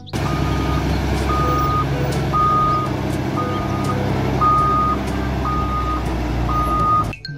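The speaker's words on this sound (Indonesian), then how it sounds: "Di sini ada mobil dump truck pertambangan." A toy mining dump truck sounds its reversing alarm, about seven evenly spaced electronic beeps over a loud, constant motor rumble that cuts off at the end.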